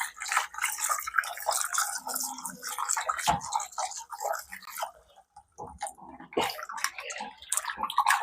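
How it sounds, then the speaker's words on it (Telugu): Pomfret fish are washed by hand in water, giving close splashes, swishes and drips in irregular bursts with a short quiet pause midway. "ఫస్ట్ అయితే ఇప్పుడు దీన్ని క్లీన్ చేసుకుంటా వాటర్లో."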